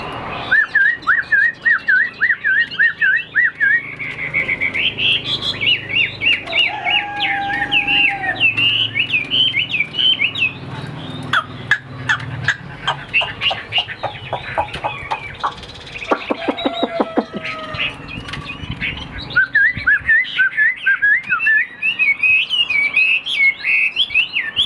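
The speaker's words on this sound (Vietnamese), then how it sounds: "Là chim quá đẹp luôn các bạn" A Vietnamese songbird, a long-tailed tam hoàng bird in competition display, sings loud, close whistled phrases with rapid chirps and trills, varied melodic runs repeating over about twenty-five seconds with no talk.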